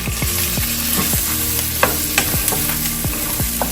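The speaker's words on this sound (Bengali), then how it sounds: "আস্ত রসুন এখন এতে দিয়ে দিব আমি বেশি করে পেঁয়াজ কুচি" Whole garlic cloves and thickly chopped onions frying in oil, a loud continuous sizzle with rhythmic metallic scraping of a spoon or spatula against the pan, repeated stirring strokes every half second or so.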